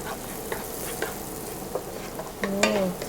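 Garlic sautéing in butter in a pan, a soft continuous sizzle with occasional stirring scrapes and clinks, close by, louder toward the end.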